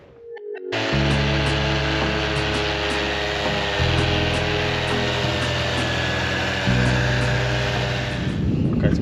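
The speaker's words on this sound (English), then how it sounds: "we started off doing the rough sanding with this one. It's a 150mm pad and a 40 grit paper." Power sander with a 150mm pad and coarse 40 grit paper roughing down a teak boat deck, a loud steady motor whine with grinding that shifts pitch a couple of times as pressure changes, running continuously close by.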